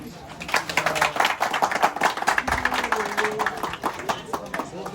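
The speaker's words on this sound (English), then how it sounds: "you should give yourself an applause" Audience clapping at a green football match event, a loose burst of hand claps with scattered taps, fairly near and lively, with voices talking over it throughout.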